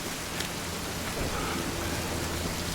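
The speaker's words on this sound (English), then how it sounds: "This is insane rain." Heavy rain pours down in a film scene, a dense, continuous hiss of water on surfaces filling the whole moment with no voices over it.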